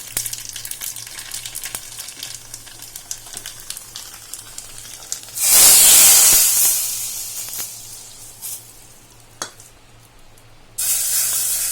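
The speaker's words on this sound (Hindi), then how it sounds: "ये देखने में ऊपर से जो हम राई और जीरे का तड़का लगाते हैं बहुत सुंदर लगता है" Close crackling sizzle of mustard and cumin seeds tempering in hot oil, swelling into a loud hissing burst midway that fades, then flares again near the end.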